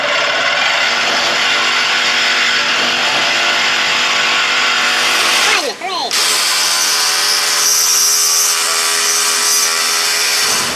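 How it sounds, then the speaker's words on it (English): A Sawzall reciprocating saw cuts loudly and steadily through a bent frame bolt on a Ford Transit 3.7, with a brief pause midway before the harsh buzzing cutting resumes. "All right, next level of escalation, Sawzall. Let's cut through this bolt and get this thing out of here."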